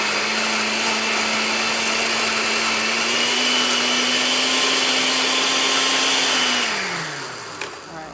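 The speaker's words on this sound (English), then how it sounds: "So I will keep blending" A kitchen blender whirs steadily for several seconds pureeing cauliflower for fufu, its motor pitch holding level before winding down as it switches off near the end, followed by a faint click.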